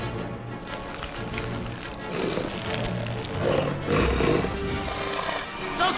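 A werewolf roars in the Harry Potter and the Prisoner of Azkaban video game, a loud, sustained growling roar layered over dense game ambience and rain-like noise for several seconds, with no one talking.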